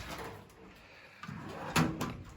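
Drawers on a 34-inch SCA toolbox and trolley slide and knock shut in a few short clunks, the loudest one near the end, with a faint voice in the background.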